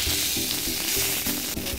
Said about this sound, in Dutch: Dan gaat de bacon erin. Die bakken we even op het gemakkie.